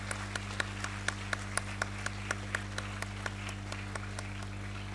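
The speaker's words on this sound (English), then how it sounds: "we actually want to give a huge round of applause for all of you to be here with us" A small conference audience of chief justices gives a steady, sparse round of clapping, individual claps spaced evenly over a constant low electrical hum, moderately close.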